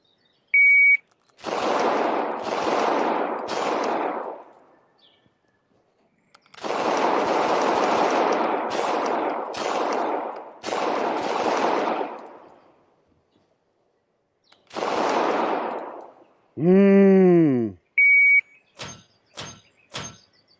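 Simulated gunfire in an Ace XR virtual-reality shooting range: several bursts of rapid, loud shots in separate strings, with pauses between them, plus short electronic beeps and a falling synthetic tone near the end.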